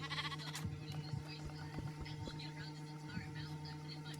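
Sheep bleating in a Minecraft-style video game, a few short nasal bleats over a steady background hum with light clicks, while a person talks.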